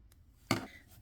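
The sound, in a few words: scissors cutting crochet yarn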